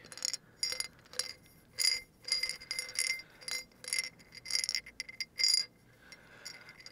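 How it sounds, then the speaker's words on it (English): Vitamins dropped one by one into a champagne glass, a series of bright, close clinks in an irregular rhythm, each ringing briefly, with no talking. "we're gonna put some vitamins into a champagne glass"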